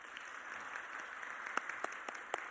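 A church congregation applauds during a Wednesday evening service, a steady patter of clapping with a few sharper individual claps standing out near the end.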